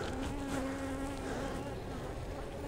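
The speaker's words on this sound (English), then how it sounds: "we'll shake all these bees out of here" Honey bees buzzing around a hive during a beekeeping honey check, a dense, continuous droning hum from many insects close by, steady throughout with no talk.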